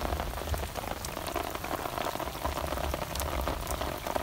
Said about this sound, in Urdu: بارش تکنے پہ کافی ہوئی ہے۔